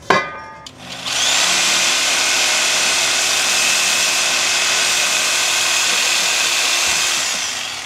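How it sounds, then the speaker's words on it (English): A reciprocating wrench rattles continuously and loudly at close range while removing the alternator from an S10 pickup, starting after a few brief clanks and holding a steady buzzing drone for several seconds. "Just had to use my reciprocating wrench"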